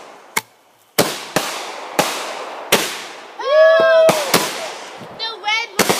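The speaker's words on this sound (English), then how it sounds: "Fire the cannon!" Fireworks at a night gathering with friends and family: several sharp firecracker-like bangs in a row, with a whistling rocket and crackling in between, loud and close, with voices around them.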